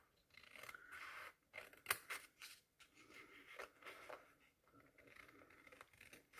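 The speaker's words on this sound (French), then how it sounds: "Et je vais couper." Scissors snip through two stacked pages of paper for a simple art collage, a string of faint, close, crisp cuts and rustles in a very quiet room.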